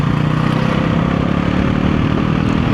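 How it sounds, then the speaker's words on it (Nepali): A Pulsar NS 400 motorcycle rides steadily on a road, its engine a dense, loud, continuous drone with a throaty rumble and no pauses. "स्पोर्ट मोड हाल्यो भने अहिले फेरि बत्तिन्छ बाइक"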